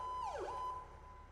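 A wind-up emergency siren from the video game EmergeNYC, a faint single tone that swoops down and back up once before holding steady, heard alone without any talk.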